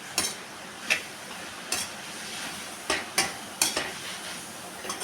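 Beetroot sizzles softly in a pan while a utensil scrapes and stirs at irregular intervals, quiet and close, with no voices.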